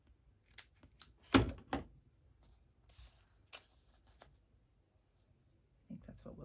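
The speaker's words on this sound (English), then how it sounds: "So I'm going to cut the gathered part off." Scissors cut the gathered part off a paper craft piece, giving a few sharp snips and rustles with quiet gaps between them, then a brief bit of speech near the end.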